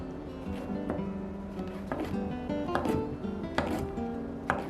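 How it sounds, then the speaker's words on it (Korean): A kitchen knife slices two king oyster mushrooms into long strips on a cutting board, a series of soft, irregular taps close by. "새송이버섯 2개 채 썰기, 길쭉하게 썰어주세요"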